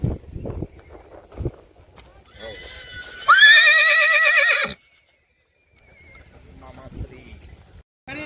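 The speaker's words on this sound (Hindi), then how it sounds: "देखिए काफ़ी खूबसूरत घोड़ा है, 3 पैर सफ़ेद है, नाम है पंछी।" A loud, close horse whinny rises and wavers for over a second at a horse race event in Gujarat, framed by hoof clatter and people talking nearby.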